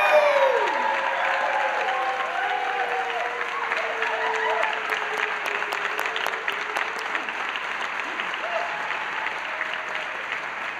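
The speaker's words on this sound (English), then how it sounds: "Let's tell each other what a great job everyone did by giving the biggest cheer possible" A university audience at a semester conversion celebration applauds and cheers, with dense, continuous clapping, whoops and crowd noise throughout, loud and close.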